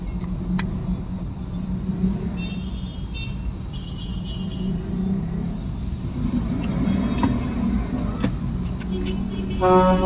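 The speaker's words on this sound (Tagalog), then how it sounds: "Busina." Amid steady traffic rumble, a truck horn blares in short honks, once early and again loudly at the end.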